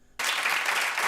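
Studio audience on a daytime talk show bursts into applause after a brief quiet moment, the clapping loud, dense and sustained to the end.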